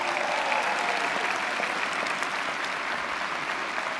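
A conference crowd applauds top-ranking Shaklee coordinators, a steady dense wash of clapping that stays even and fairly distant throughout.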